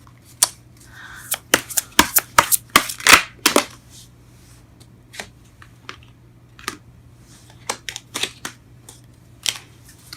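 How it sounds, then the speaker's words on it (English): Tarot cards being handled, shuffled and laid down on a table: a flurry of sharp, close papery snaps and slaps early on, then scattered single card flicks and taps with pauses. "Let's go ahead and clarify some of these cards here."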